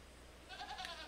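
A goat bleats in the video game Arida, one brief, faint wavering call over a steady background hum.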